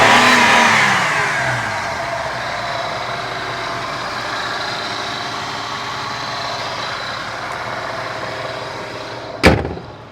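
A car engine running smoothly after a tune-up with new coils and plugs, a steady, even idle close by after an initial rev fades, ending with a sharp click or thump.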